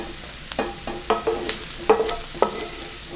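Melted butter stirred into bread cubes in a kitchen, giving soft repeated scraping and clattering stirs with faint sizzle-like crackle, close and moderately loud, no talking.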